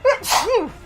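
A single sharp sneeze, close up, with a quick breathy intake just before it.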